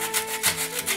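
Sandpaper rubs along the edges of a wooden piece in short back-and-forth strokes, a steady close rasping texture with a faint tonal hum underneath.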